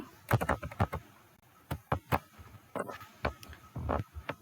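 Keys clack on a computer keyboard in irregular bursts of quick strokes with short pauses, close and fairly quiet, as HTML code is typed, with no talk.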